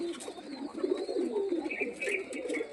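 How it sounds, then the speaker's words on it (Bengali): Pigeons kept in cages give soft, repeated cooing close by, with faint chirps and a low background hum. "আপনাদের আমার যতগুলি পায়রা আছে সবই ভিডিও করে দেখাচ্ছি"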